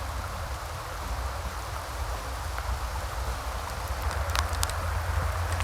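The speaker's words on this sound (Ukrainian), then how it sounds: "дощ чи град попадає в шнур чи в бланк" Steady rain, with what may be hail, falls by a river onto a fishing line and rod blank, a dense continuous patter with a few sharper ticks near the end.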